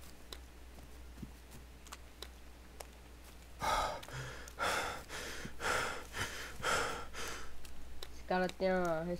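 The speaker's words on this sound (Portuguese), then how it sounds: "Ela tem uma respiração muito, muito agressiva" Heavy, aggressive breathing from a creature in The Forest video game, a series of loud, rhythmic huffs after a quiet, ticking stretch, followed by someone speaking.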